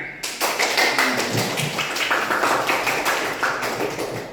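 A classroom group claps for the first presentation team, a steady burst of many hands clapping together at close range, sustained across the whole stretch with little else heard.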